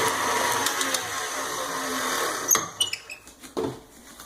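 An electric mixer beats lemon square batter in a bowl with a steady, close whirring drone, then cuts off, leaving a few scattered scraping clicks and knocks.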